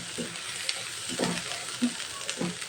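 Cumin, coriander powder and salt are stirred together in a pan for a beef tripe dish, with about four rhythmic spoon scrapes over a soft, continuous sizzle close by.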